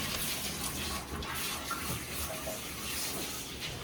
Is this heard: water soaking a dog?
yes